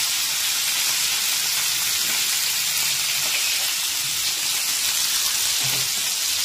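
Fish frying in a little oil for a light fish curry gives a steady, close sizzle with a dense crackling hiss and faint scattered pops, running unbroken throughout.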